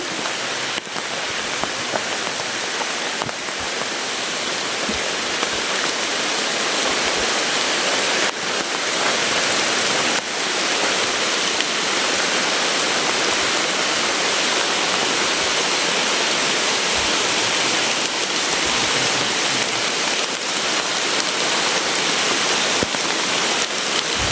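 Heavy rain pours steadily and loudly onto surfaces, a dense continuous hiss with occasional sharper drops and no voices.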